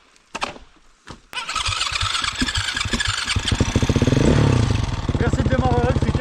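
A two-stroke enduro motorcycle is started after a few short clanks and kicks, then catches and runs with a loud, rapid buzzing idle, close by and rising briefly in revs.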